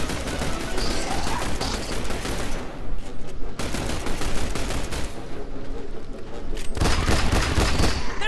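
A fully automatic gun firing in The Bureau: XCOM Declassified, in long, loud, sustained rattling bursts with brief breaks, with heavier booming impacts toward the end.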